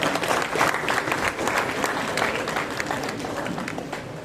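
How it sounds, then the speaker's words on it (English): Dense, loud audience applause fills an investiture ceremony hall for cadets, many hands clapping together in a steady, unbroken roar from start to finish. "Please have a huge round of applause."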